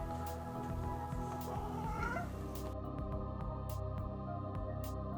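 A cat meows alone, one drawn-out wavering meow near the middle of the clip, faint against a steady background hum with scattered clicks.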